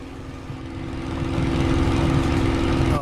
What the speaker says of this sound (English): Oh, that engine sound